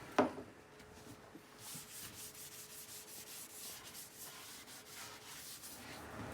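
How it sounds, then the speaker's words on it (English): Rag dampened with paint thinner wiping across a wooden live edge table top, a quiet repeated rubbing and swishing, soft strokes in a steady rhythm. "We're just going to do that with a rag that is slightly dampened with paint thinner."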